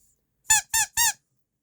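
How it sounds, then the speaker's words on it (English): A small squeaky toy octopus gives three quick squeaks in a row, each short and bright, close and loud with silence before and after. "It's a squeaky little octopus."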